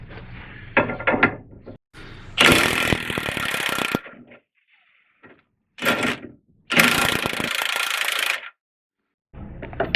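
An impact wrench with a socket hammers at a 21 millimeter bolt on the front end of a Dodge Charger, Magnum or Chrysler 300, firing in two loud, rattling bursts of a second or more with short quiet gaps around them.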